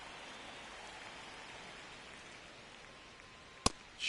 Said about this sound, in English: It feels like we might be headed towards a rain delay if the weather doesn't ease up, Chris.